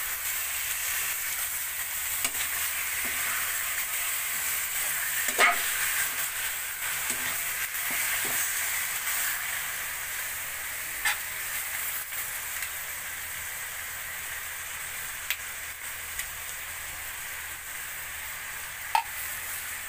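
Chinese adobo sizzling and frying in a pan as it is stirred, a steady close hiss that never stops, with occasional light clicks and scrapes of the utensil against the pan.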